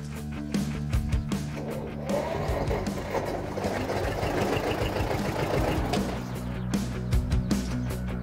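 A tractor engine chugs and idles nearby in a steady low rumble, with a few knocks and clatters over it.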